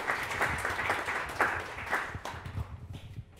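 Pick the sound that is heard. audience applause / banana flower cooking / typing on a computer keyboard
audience applause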